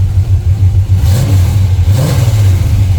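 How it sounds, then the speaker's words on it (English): A 1987 Pontiac Grand Prix LE V8 with dual exhaust revs steadily close by, a deep, loud rumble holding throughout with two brief swells in throttle. "It sounds awesome. Dual exhaust pipes."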